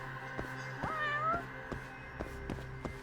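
A cat in the Judgement video game meows once, a short rising cry near the middle, set against a steady game soundtrack with repeated soft percussive thumps.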